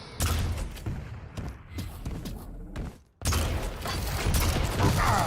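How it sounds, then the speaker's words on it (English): Rocket launcher blasts and thudding impacts in a Quake duel, a dense run of explosive bangs and mechanical clatter that drops out briefly before resuming loud and busy. "Oh, and another great rocket."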